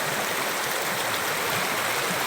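The Cuyahoga River rushes steadily after rain, a dense, continuous broadband roar of flowing water close by with no pauses.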